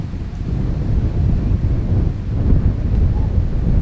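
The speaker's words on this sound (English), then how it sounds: "I didn't think it was gonna be this windy." Strong wind at Kasai seaside park batters the microphone with a steady, loud, low rumbling roar that surges and swells without a break.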